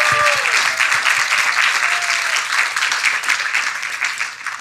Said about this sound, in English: let's give a round of applause to every single one of you